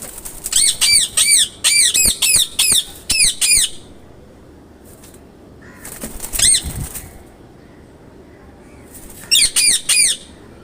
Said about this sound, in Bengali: টিয়া পাখির ডাক আপনারা অনুভব করেন।